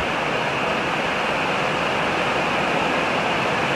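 Heavy rain falling in a noisy outdoor spot, a steady dense hiss of water that fills the whole stretch evenly, loud and unbroken with no voices.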